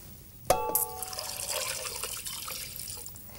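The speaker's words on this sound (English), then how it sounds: "add enough water to cover." Water pours into a pot of chicken for a lemon chicken casserole, starting with a sharp metallic clink and then running as a steady splashing stream close by.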